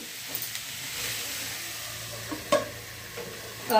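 Eggplant and potato curry is stirred in a pan, with a low steady sizzle under a few scraping clinks of the spoon, one sharper knock midway and another near the end, heard close and with no talk.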